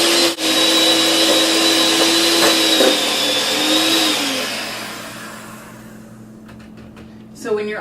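An electric stand mixer creams butter in a bowl for buttercream frosting, a steady loud whirring drone that fades over the last few seconds before a brief clatter at the end.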